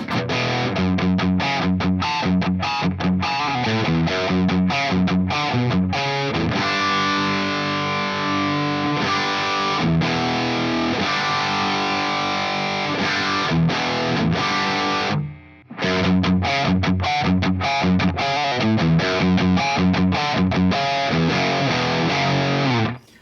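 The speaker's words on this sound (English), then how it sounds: "Needs more gain, so let's activate the boost." A distorted electric guitar through a Poly Ample pedal with boost engaged plays loud, driven chords and riffs continuously, with one brief dropout near the end.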